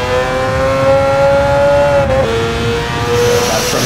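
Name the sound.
four-rotor Mazda RX7 engine revving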